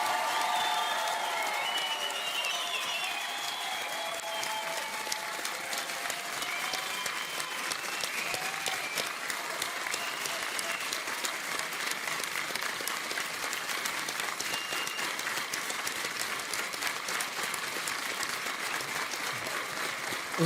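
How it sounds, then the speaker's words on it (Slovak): Big, sustained applause from a large audience at a Slovak folk singing final for compatriots in Serbia's Vojvodina, dense steady clapping filling the room without pause, with some faint music or tones underneath. "aby ste poslali do Srbska našim krajanom jeden veľký potlesk"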